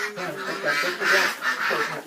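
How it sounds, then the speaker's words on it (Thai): Pet ducks quacking close by, several loud nasal calls in quick succession that run together over about two seconds. "นี้คือน้องเป็ดของเราเอง"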